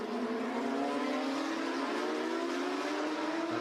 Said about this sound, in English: there's an awful lot of flat sixes here at Zhuhai this weekend